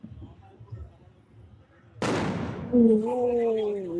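A firecracker bursts at a Sankranti festival celebration with one sudden loud close bang after a quiet stretch of faint voices, followed by a ringing, decaying tail and people calling out.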